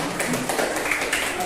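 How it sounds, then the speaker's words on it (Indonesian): Students in a classroom giving group 3 a round of applause, brisk clapping of moderate loudness that carries on steadily from start to finish. "tepuk tangan dulu untuk kelompok 3"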